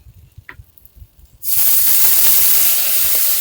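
Water poured into a hot pan bursts into a loud, sustained steam hiss partway through, following quieter clatter and low background rumble.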